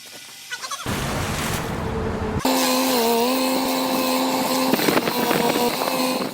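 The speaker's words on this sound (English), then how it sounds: "this stump grinder digs as deep as 38 centimeters, wiping out tree stumps with ease." A stump grinder chews into a tree stump, a loud, harsh grinding roar with a steady whining engine tone and gritty chip noise that starts abruptly and stays heavy and continuous, with a brief shift in pitch partway through.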